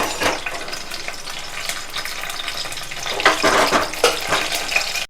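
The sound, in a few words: onion added to pan frying for tamarind fish curry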